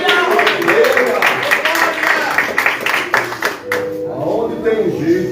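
A church congregation claps during a Friday worship service, rhythmic hand clapping mixed with voices and loud speech from the front, busy and reverberant throughout.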